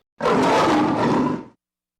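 A single loud, rough lion roar lasting over a second, close and harsh, then silence.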